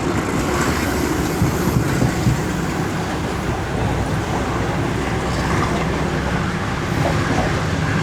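A down train rumbles past at Drigh Road junction, heard from aboard another train, as a steady, loud, continuous roar with faint rhythmic clatter and no voices.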